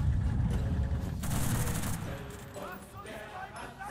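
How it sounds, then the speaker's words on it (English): In the Enlisted war game, a tank's gun fires amid a dense barrage of gunfire, with heavy rapid reports up front that thin out into scattered shots, while a voice talks over the action. "I'll keep operating the gun."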